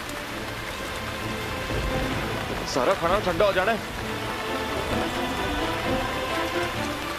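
Steady rain falls, a soft even hiss on a surface, while a person speaks briefly in the middle over it.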